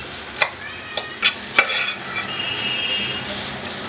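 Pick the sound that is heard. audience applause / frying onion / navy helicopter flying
frying onion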